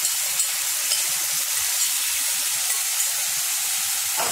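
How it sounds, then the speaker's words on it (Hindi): Curd-mixed rice drops into a hot tadka of spiced oil in a pan, setting off a steady bright sizzle and hiss that holds for several seconds with a sharper burst near the end. "तड़के में हम ये राइस को डाल देंगे"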